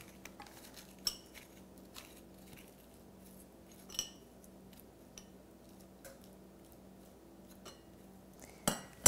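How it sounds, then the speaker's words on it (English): Someone scrapes the seeds out of a halved acorn squash with a utensil: faint, sparse clicks and scrapes of metal against the squash and a dish, scattered irregularly over a quiet kitchen background. "Then we're going to de-seed the squash."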